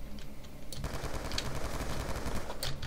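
Rapid automatic fire from an M27 rifle in a Black Ops 2 one-on-one match, a sustained rattling burst of close, loud shots with a few sharper cracks, with no talking.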